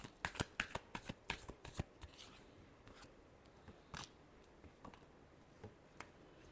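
Tarot cards riffle and slap together in a quick run of crisp, close shuffling clicks for about two seconds, then a few scattered soft taps and flicks follow.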